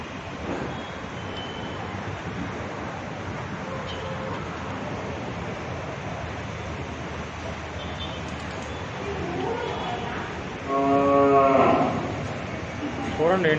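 Cattle, including a Jersey crossbreed bull, in a multi-storey cow shelter (goshala) in Hyderabad, with one loud, close, drawn-out moo near the end over a constant background hum of the shed and distant traffic.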